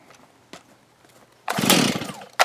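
A chainsaw pull-started by hand: a couple of short cord tugs, then a brief loud sputter as the engine kicks without catching, close by.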